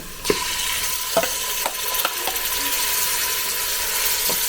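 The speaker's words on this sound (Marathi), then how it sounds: "आता हे मटण टोपामध्ये टाकले कांद्यासोबतच त्याला मस्त की फ्राय करायचं" Mutton frying with onions in a pot over a wood-fired stove, a steady sizzle with scattered scraping clicks of stirring, close and fairly loud, no talking.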